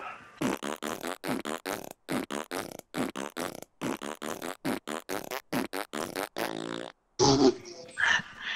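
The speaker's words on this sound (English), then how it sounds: "I farted." Amid casual Fortnite voice-chat gaming talk, a short, low buzzy fart sounds, followed by a burst of noisy reaction; voices chatter throughout.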